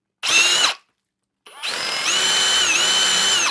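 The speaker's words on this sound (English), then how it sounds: "So you just get a drill." A power drill bores out a hole to enlarge it, with a short whining burst, a brief pause, then a longer sustained run whose pitch dips and rises as the bit loads up, close and loud.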